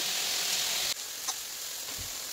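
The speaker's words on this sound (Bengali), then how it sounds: "কেটে রাখা টমেটোর টুকরোগুলোকেও দিয়ে দিচ্ছি। টমেটোটাকেও ভালোভাবে একটু নাড়াচাড়া করে নিতে হবে।" Tomato pieces fry in turmeric masala for a desi chicken curry, making a steady close sizzle with a faint clink of stirring partway through.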